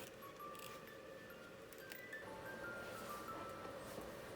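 Baby toy music box playing a faint tinkling melody, thin chiming notes drifting steadily at a distance in a quiet room.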